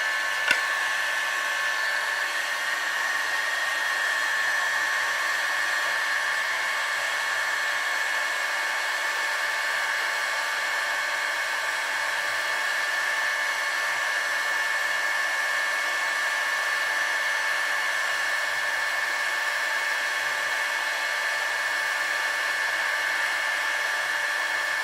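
A hair dryer or heat gun runs steadily for about 25 seconds, warming the crankcase of a Saito FA-120S model aircraft engine to seat a bearing, a constant close whine with no talk.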